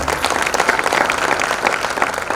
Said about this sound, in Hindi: आप सबसे निवेदन करता हूं कि मातृशक्ति के सम्मान में जोरदार ताली बजाकर उनका अभिनंदन करें।